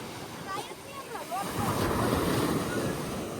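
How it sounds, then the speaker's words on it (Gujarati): Sea waves roll in at the shoreline during coastal fishing, a loud continuous rushing surf that swells after a brief voice near the start, with wind buffeting the microphone throughout. "અહીંયા કિનારે કિનારે મોજા વધારે જોવા મળે છે"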